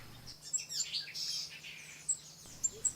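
A yellow-throated euphonia gives a few high, thin chirps, clear but fairly faint. Short calls come at the start and again near the end, over a low steady background hum.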